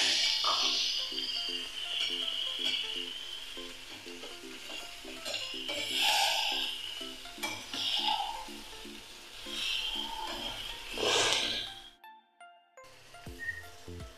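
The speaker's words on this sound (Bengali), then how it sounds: "এবার দিয়ে দিচ্ছি আমি মাংস।" Mutton pieces for a goat-meat curry sizzle and fry in a hot pan, a loud crackling hiss with bursts of stirring and scraping, which cuts out briefly near the end.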